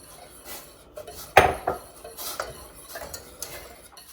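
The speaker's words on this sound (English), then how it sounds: "I'm going to stir in the sugar and" A spoon stirs sugar and pectin into boiling grape juice in a metal pot for homemade grape jelly, with one loud clank followed by light scraping and clinking against the pot, close and without talking.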